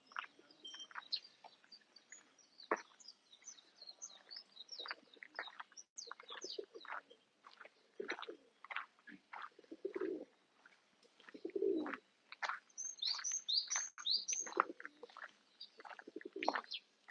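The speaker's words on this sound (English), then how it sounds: "And we have a hato. Hato is Japanese for pigeon." A pigeon coos softly and repeatedly on the grounds of Kawasaki Daishi temple in Japan, mixed with chirping from other birds over a steady outdoor background, with no voices.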